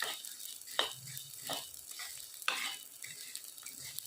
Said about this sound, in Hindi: ये लगभग हमारा गोंद भुनने वाला है, ये भुन जाएगा।